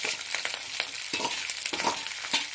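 Green chillies and onions frying in oil with cumin give a soft continuous sizzle, with repeated scraping stirs of a spatula in the pan. Quiet and close, with no voices.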